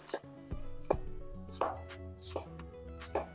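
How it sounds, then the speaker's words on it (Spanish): A sharp knife chops onion into fine brunoise on a cutting board, five or six distinct knocks spaced about every half second, with background music underneath. "Tenemos nuestra brunoise de cebolla que la hemos hecho bastante rápido, a pesar de que no he ocupado movimientos bruscos del cuchillo"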